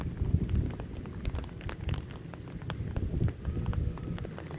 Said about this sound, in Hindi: आज तो देखें बारिश कितनी तेज हो रही है।